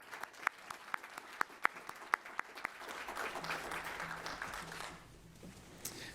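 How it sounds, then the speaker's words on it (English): Applause from a nonprofit forum audience builds after a few sharp, separate claps, then settles into steady, fairly soft clapping that lasts several seconds before thinning out. "Can we all give them a round of applause, please?"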